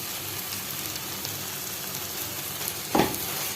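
Torn chapati pieces are stir-fried in a hot pan for kothu chapathi: a steady, dense sizzle runs throughout, broken by one brief thump and scrape near the end, with no speech.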